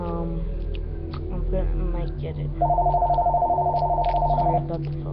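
A telephone ringing with a rapid warbling trill that runs steadily for about two seconds, loud and close, following a stretch of talk from a person nearby.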